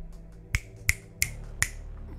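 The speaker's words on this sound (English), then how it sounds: "The finger snap." Four crisp finger snaps sound close and clear at an uneven pace in the video game Phantasmagoria 2.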